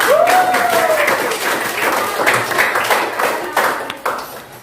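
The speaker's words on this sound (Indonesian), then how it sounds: "sebelumnya kita tepuk tangan dulu" Group of teachers clapping hands in a classroom workshop, a short burst of claps that thins out, with voices and a rising whistle-like tone near the start.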